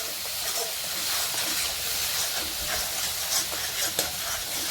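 Katla fish rezala being stirred in a hot frying pan, a steady bed of sizzling and frying with soft scraping stir strokes throughout, close and moderately loud, no talking.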